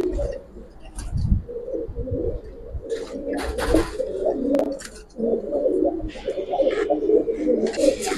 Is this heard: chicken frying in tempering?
no